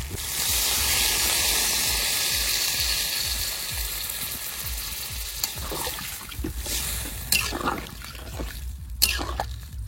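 Water goes into a pot of elephant foot yam curry with a loud rushing hiss that slowly fades, followed by scattered clinks and scrapes of stirring.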